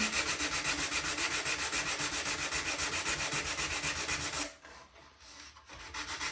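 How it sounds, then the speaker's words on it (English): A nail file rasps back and forth against a model aircraft tail in quick, even strokes, close and continuous, then stops abruptly and resumes briefly after a pause. "using one of these nail files, give this a sand."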